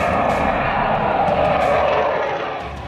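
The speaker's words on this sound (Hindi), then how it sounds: "फाइटर जेट उतरेंगे और जाएंगे, उड़ान भरेंगे" Fighter jets roar overhead during a touch-and-go rehearsal at a 3.2 km airstrip on the Purvanchal Expressway near Kurebhar village, Sultanpur, with Rafale, Sukhoi, Mirage and Jaguar aircraft; a loud, steady engine roar fills the scene, easing slightly at the end.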